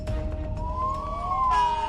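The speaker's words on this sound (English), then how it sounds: "How can someone not hear the damn sirens and see a big fire truck?" A wailing siren from a fire truck sweeps up and down over steady road and traffic noise, fairly loud and close, with the tone rising then holding through the clip.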